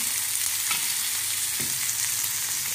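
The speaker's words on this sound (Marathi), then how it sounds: "जिरे, धने आणि टोमॅटो म्हणून गुळाचा खडा, हे सगळं मस्तपैकी भाजून घ्यायचं" Onion, garlic, cumin, coriander, tomato and a lump of jaggery roast in a pan with a loud, steady sizzle and crackle throughout, broken by a couple of soft stirring scrapes.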